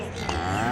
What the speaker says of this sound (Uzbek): Navbatdagi sigirimiz bor ekan.